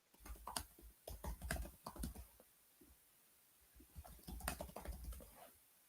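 Quick bursts of keystrokes on a computer keyboard, close and fairly quiet, come in uneven runs with a short pause in the middle and no talking.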